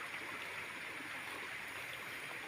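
Clean spring water flows from the ground in a stream at a Kalibato spring, a steady soft rushing and trickling that holds constant throughout, fairly faint and with no talk.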